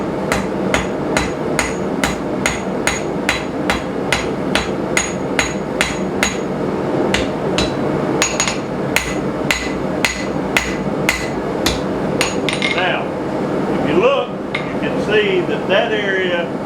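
A cross peen hammer forges hot steel log dogs: about two dozen sharp, ringing blows land in a steady rhythm close by, then thin out to a few scattered knocks and scrapes near the end.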